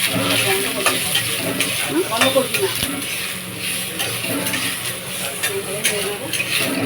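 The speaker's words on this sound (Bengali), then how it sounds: "এভাবে নেড়ে নেবেন আমটা।" Mango pieces are stirred as they fry in a pan with a dried red chilli tempering. A steady close sizzle runs throughout, broken by repeated scrapes and knocks of the spatula against the pan.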